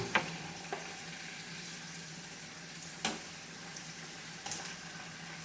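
Pieces of fried chicken frying in hot oil, a steady low sizzle and bubble with a few sharper pops and crackles scattered through, close and fairly quiet.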